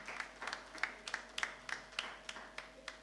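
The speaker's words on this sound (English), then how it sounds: "please give both teams a round of applause" An audience applauds debate teams at an inter-campus postgraduate competition, a light, fairly sparse patter of clapping heard from a distance, with rhythmic peaks, for about three seconds.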